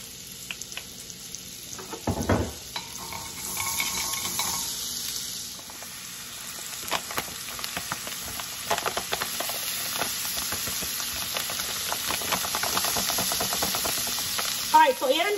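Butter and avocado oil sizzle steadily in a hot pan, a continuous bright hiss with occasional stirring scrapes and a louder clatter near the start, no voices.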